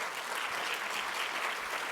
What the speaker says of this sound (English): Let's give all of our nurse partners a round of applause.